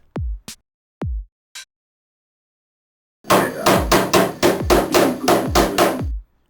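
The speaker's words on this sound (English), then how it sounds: "Carefully hammer the T-nuts into the bottom of the board one at a time" A few separate hammer strikes ring out, then a quick run of about ten sharp, evenly spaced blows driving metal T-nuts into the bottom of a wooden ski board.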